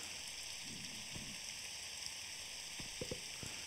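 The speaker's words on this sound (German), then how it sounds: "Und jetzt wieder Regen." Rain falling in Rexplore, an early-alpha Minecraft-clone PC game: a steady, even hiss of rainfall with a few soft crackles and light ticks near the end, with no voices.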